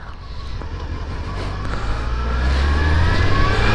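A police car engine rumbles nearby and revs up as it drives away, its low drone rising steadily over a few seconds amid outdoor road noise.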